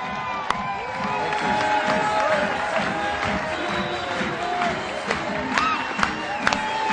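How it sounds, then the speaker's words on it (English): A seminar crowd applauds and cheers for a presenter, with loud sustained clapping, whoops and shouts layered over one another, and scattered voices rising through the noise. "please help me give a huge round of applause for Mr. Keith Cunningham!"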